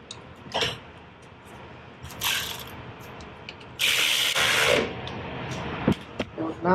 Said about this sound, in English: Now we're going to torque it down.